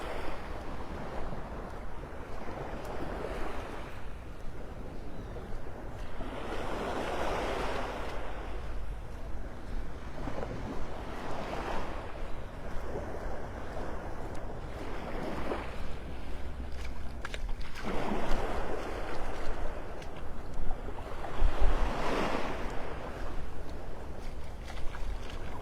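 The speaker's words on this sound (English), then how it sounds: "Soothing sounds of the little waves lapping on shore here this morning." Small waves lap gently on a North Naples, Florida beach on a morning walk, a soft continuous wash of surf that swells and recedes in slow rolling surges, with light wind rumble over the microphone and no talking.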